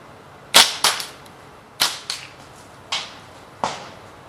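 A homemade steel slingshot with an adjustable fork and rubber bands being fired, five sharp snapping releases spaced about a second apart, each with a short ringing tail, close and without talk.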